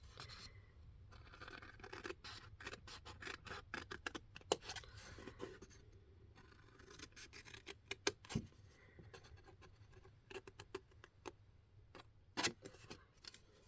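Scissors cut along the edge of a papercraft piece with a run of crisp snips and scratchy rasps, close and fairly quiet, coming in uneven bursts with short pauses.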